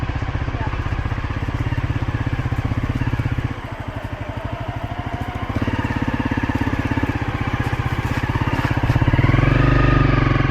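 A motorcycle rides a dirt mountain backroad past rice fields in Sapa, its mid-pitched engine chugging steadily and close throughout, rising slightly toward the end.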